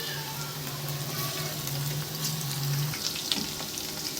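Chicken necks frying in a pan, a continuous soft sizzle and hiss of hot oil with a low hum underneath and a few small pops near the end.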